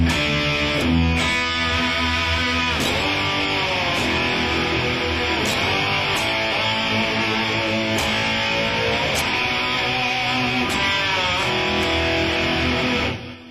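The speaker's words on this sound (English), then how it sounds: "I like to just kind of pull anything that I can with the whammy, and you can get kind of a slide guitar sound." Overdriven electric guitar, notes bent smoothly up and down with the whammy bar in gliding, slide-like swoops, loud and sustained across a continuous phrase with no talking.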